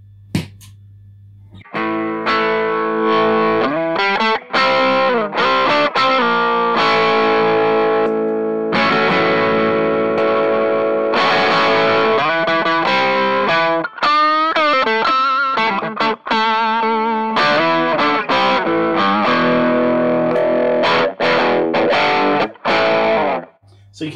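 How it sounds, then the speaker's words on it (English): An electric guitar runs through a germanium Rangemaster-style treble booster at unity gain, giving bright, driven chords and single-note runs that play steadily and loud with brief pauses, and no talk over it. "it's now traditional germanium treble booster Rangemaster"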